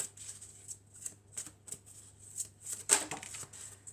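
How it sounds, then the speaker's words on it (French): Oracle cards are shuffled and drawn close up in a quiet room, a rhythmic series of soft papery flicks and riffles ending in a sharper snap. "on va tirer une autre carte."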